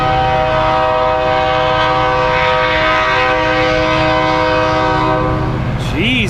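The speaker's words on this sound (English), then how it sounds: "I hear a train." A loud train horn blares steadily for several seconds over the rumble of a passing train, sounding close by.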